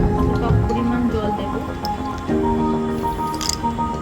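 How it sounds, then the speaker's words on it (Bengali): Water pours into a pan over a cup of sugar for kheer syrup, a continuous close gurgling and splashing stream that shifts in tone partway through. "বেশ কিছুটা জল দিয়ে দিলাম"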